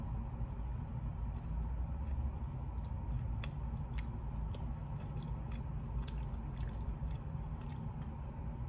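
Chewy, slightly overcooked meat from a Shanghai hotel quarantine meal being chewed close up, with soft wet chewing and small crisp bites clicking through steady low background noise.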